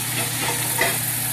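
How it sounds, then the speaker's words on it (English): Top round beef sizzles in a hot pan with a steady, close, continuous hiss and crackle that holds even throughout, with no voices. "Hear that sizzle."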